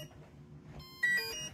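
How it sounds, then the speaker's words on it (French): A brushless speed controller with a lithium battery in a handmade Anatec AVH RC boat gives short, bright initialization beeps. They come close and clear after a moment of quiet. "Donc quand on entend ces bips, ça veut dire que le bateau s'est initialisé et qu'il est prêt à fonctionner."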